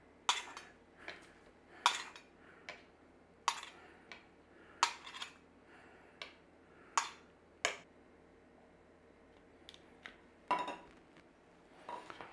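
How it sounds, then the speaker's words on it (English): A metal fork's tines press down on the edges of ready-made puff pastry turnovers, giving about a dozen sharp clinks against the board. The taps come at an uneven pace, separated by quiet pauses. "You put your fork tines in there and then they don't stick to the pastry."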